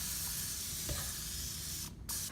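Butter-flavored cooking spray hissing steadily from a can into a bread pan, one continuous close spray with a brief pause near the end before a short final burst.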